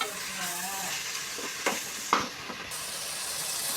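Onions and tomatoes sauté in a pan for panneer biriyani, giving a soft steady sizzle with a few stirring scrapes and clinks, quiet and without talk.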